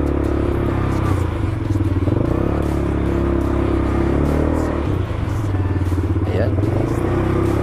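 A 200cc ATV engine runs steadily during a test ride, a loud, close, buzzing putter that holds a fairly even pitch with slight rises, along with some rattling and a voice speaking over it.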